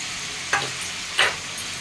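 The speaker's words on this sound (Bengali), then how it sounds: "আলু তো দিলাম, এবারে দেব পেঁয়াজ আর লঙ্কা" Potatoes sizzle softly in a pan as onion and chili are added, with two sharp scraping stirs standing out above the steady low frying hiss.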